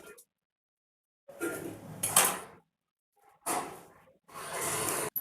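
Fruit being cut for a cocoa dessert: close bursts of knife and utensil clatter against a plate or board, separated by short silences.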